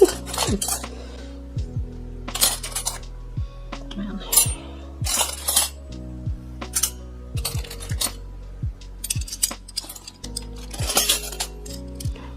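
Silver plate teaspoons clink and clatter against one another in sharp metallic bursts, dropped one after another onto a growing pile at close range, with brief pauses between handfuls.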